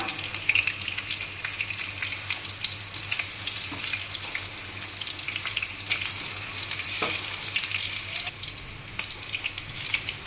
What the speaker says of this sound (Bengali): এইভাবে একটু লাল লাল করে ভেজে নিতে হবে এটা